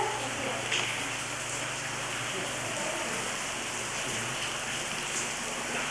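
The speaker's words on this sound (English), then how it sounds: "It's a great place to come in from the rain, and it is pouring outside." Heavy rain pours steadily outside a hotel in Ecuador, a dense, even hiss of drops on surfaces that stays loud and unbroken throughout.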